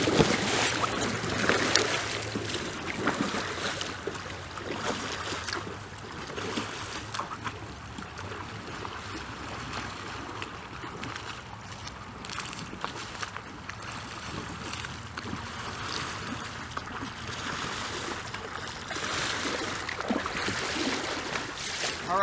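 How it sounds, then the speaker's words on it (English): Paddles stroking through river water on a whitewater raft, a steady rush of splashing and flowing current with rhythmic dips, moderately loud and continuous without talk. "We're gonna paddle back and forth."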